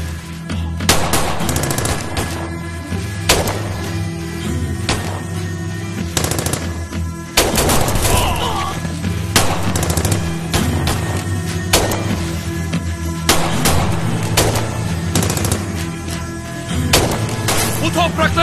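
Repeated bursts of gunfire ring out through a tense action scene from a Turkish crime drama, several sharp volleys and rapid shots scattered across the span, loud and close, with voices and dramatic music underneath.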